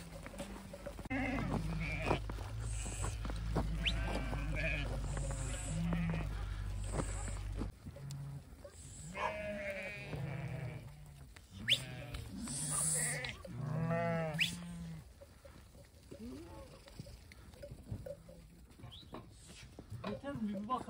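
Goats and sheep bleat repeatedly over a steady low rumble, with several overlapping calls nearby as the flock is herded home through snow in Hasköy, Yalnızçam; a person speaks briefly amid the animals.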